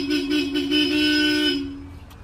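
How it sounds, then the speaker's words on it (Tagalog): Upgraded horn on a Toyota Vios XLE sounding in one sustained, loud honk of about a second and a half, close by, with a short tail fading out. "Busina, ay naka-upgrade na rin yung kanyang busina mga bossing."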